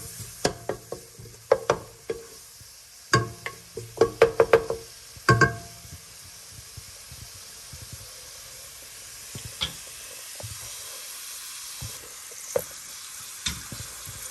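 Green chilies and other ingredients for a crab curry fry in a pan with a soft continuous sizzle, punctuated by a cluster of sharp knocks and scrapes from stirring, then quieter sizzling with occasional taps.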